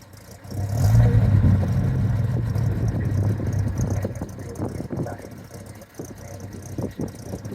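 The straight-six engine of an all-original 1938 Chevy 38HC pickup with a three-speed manual runs with a steady low rumble, rising briefly early on and then settling, with people talking faintly nearby.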